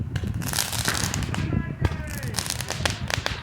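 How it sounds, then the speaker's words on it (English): Roman candle fireworks crackle and pop in rapid bursts, with sharp cracks and whistling streaks layered over a rumbling background, fairly close and loud, mixed with voices. "Oh, there's fireworks here,"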